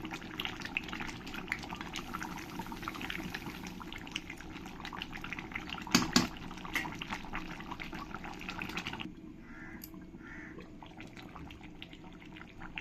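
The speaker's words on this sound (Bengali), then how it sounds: "দেখো কতটা জল ছেড়ে দিয়েছে আমার এক্সট্রা কোনো জল দেওয়ার প্রয়োজনই পড়িনি যতটা জল ছেড়ে দিয়েছে এই জলেই আমার চিকেনটা ভালোভাবে রান্না হয়ে যাবে" Chicken cooked with yogurt simmers in the liquid it has released, giving a steady bubbling, watery hiss that softens and drops lower near the end.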